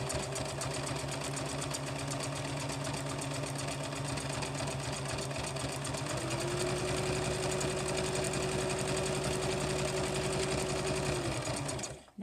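A sewing machine stitches around a placemat for a rat hammock, running as a fast, steady mechanical whir close by, its pitch rising slightly partway through before it stops abruptly at the end.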